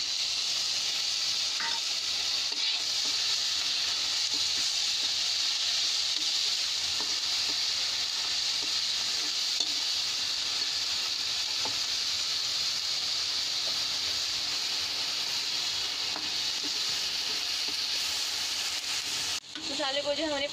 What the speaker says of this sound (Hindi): मसाले को जो हमने 5 मिनट के लिए जो है गोल्डन फ्राई कर लिया है